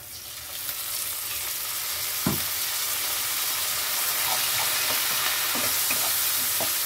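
Ground onion paste frying in a pan for Bengali-style dahi bata, a loud, continuous sizzle with occasional scraping stirs and soft knocks, no talking.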